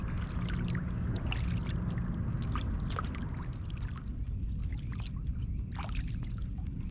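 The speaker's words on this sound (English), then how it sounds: "Are you just paddling and not fishing? Yep, just paddling." A canoe or kayak being paddled on water, with scattered splashes and drips of the paddle strokes over a low rumbling background, close and moderately quiet, no talking.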